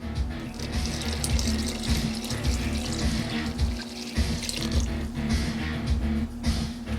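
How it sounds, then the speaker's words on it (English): Warm water pours steadily into a container for whole wheat pizza dough, a continuous splashing rush with faint dripping textures. "And our 325 grams or 325 milliliters of warm water"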